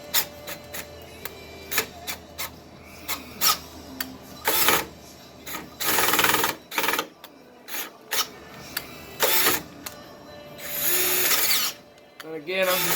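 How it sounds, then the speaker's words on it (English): Power drill boring out a hole through the steel frame of an 88-98 Chevy truck, loud repeated bursts of whining and grinding separated by pauses, with some nearby talk between runs. "I'm just trying to bore this out a little bit because I'm going to have to end up getting a bigger drill bit"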